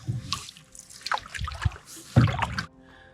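River water on a wilderness stream in the North Karelian backwoods trickles and splashes in uneven bursts, close and moderately loud, with gaps of near quiet between gurgling surges.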